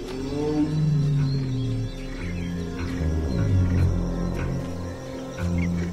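Low, rumbling tiger calls carry through an Indian jungle, a series of deep, resonant moans swelling and fading across the stretch with steady loudness and no voices.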